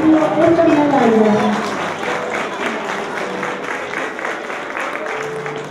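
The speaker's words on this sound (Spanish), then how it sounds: "démosle un fuerte aplauso a quien ha obtenido esta medalla" A school graduation audience applauds a medal recipient, continuous clapping with crowd murmur, while a voice talks over the first couple of seconds before the applause carries on alone.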